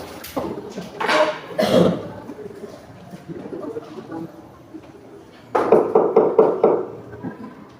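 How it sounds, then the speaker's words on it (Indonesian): Knocking on a bedroom door in an Indonesian school drama, heard as a quick run of about five close, sharp raps after some earlier muffled movement and noise. "Ketukan pintu terdengar."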